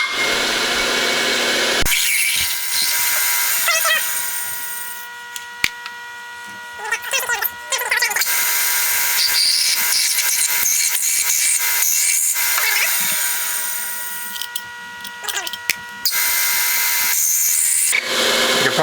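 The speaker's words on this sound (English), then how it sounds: "now I'm basically drilling, and then we're countersinking so that our 1/4-20 screws will sit down" A power drill boring and countersinking holes for 1/4-20 screws in a slow-speed carbide grinder build, whining loudly in several bursts with quiet pauses between them.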